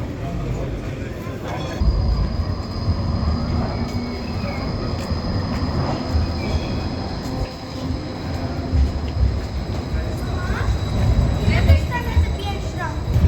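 A tram runs through the streets of Basel, Switzerland, giving a steady rumbling rail noise with a faint high whine. Street ambience and distant activity surround it, and it holds fairly loud throughout.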